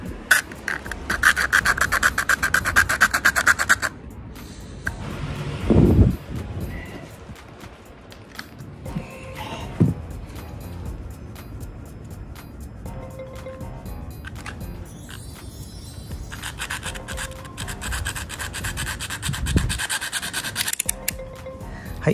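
Rasping back-and-forth strokes of a handsaw cutting a rod holder for a motorcycle, in bursts separated by pauses and a few handling knocks.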